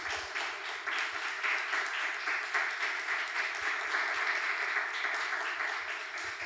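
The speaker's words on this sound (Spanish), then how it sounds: "toca dar un gran aplauso a nuestro conferenciante" An audience applauds after a lecture on the philosopher María Zambrano, a steady, moderately distant wash of clapping that holds evenly throughout, with a low constant hum underneath.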